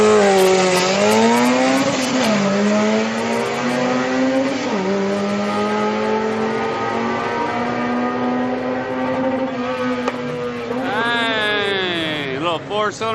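Street cars race at a drag strip, a four-cylinder against an eight-cylinder, with a loud sustained engine drone whose pitch climbs through gear changes and then rises again near the end, with speech over the top.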